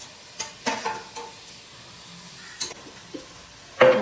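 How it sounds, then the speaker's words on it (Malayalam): Onions sauté in a pan for a homestyle country chicken curry, a soft sizzle under intermittent clacks and scrapes of a spoon stirring, louder knocks near the end. "ഉള്ളിയിട്ട് ഉള്ളി വഴട്ടണം."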